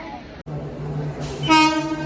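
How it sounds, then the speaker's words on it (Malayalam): A MEMU train rumbles close by with a low steady drone, then a bright horn blares briefly near the end; faint voices sit underneath. "ആ മെമ്മു പോകുന്നു അതിൻ്റെ സൗണ്ട് നമ്മളിപ്പോൾ കേട്ടത്"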